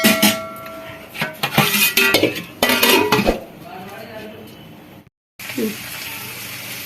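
A metal plate set down over a pot of pulao as a lid, giving a few loud clanks and scrapes of steel on steel in a home kitchen, followed by a soft steady hiss from the stove.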